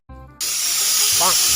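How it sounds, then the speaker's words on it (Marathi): A pressure cooker's whistle releases steam on a kitchen gas stove: a loud, steady, close hiss bursts in and holds without a break, after a brief low tonal hum at the start. "त्या कुकरच्या शिट्ट्या वाजायला लागल्यात, बंद कर जा गॅस"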